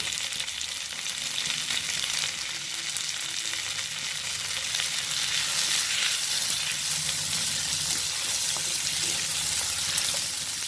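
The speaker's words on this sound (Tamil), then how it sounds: "தக்காளி நல்லா வதங்கட்டும்" Chopped tomatoes sautéing in a pan for a mealmaker (soy chunk) gravy, giving a steady close sizzle and crackle of frying throughout, with faint stirring scrapes and no talking.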